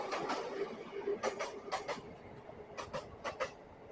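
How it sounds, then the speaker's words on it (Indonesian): A train passes at a distance at night near an MRT station, its wheels making faint, rhythmic clattering bursts over a low, steady rumble. "Ini ada kereta."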